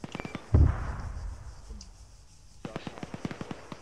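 Mortar strikes in Arma 3, a heavy close blast followed by a long rumbling decay, then a series of sharp distant cracks and pops with faint radio voices underneath.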